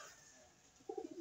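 Pet fancy pigeons cooing in a loft, a brief soft burst of a few low throaty coos near the end, faint and close, with no talking.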